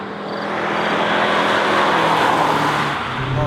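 Fiat Tipo 2.0 16v engine roaring while driving, a steady loud broadband drone that swells slightly through the middle and stays continuous throughout, with no talk over it.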